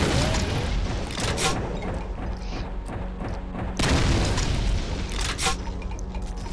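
Video game grenade goes off as a deep boom amid clattering game effects and sharp bursts, fairly close and dense throughout.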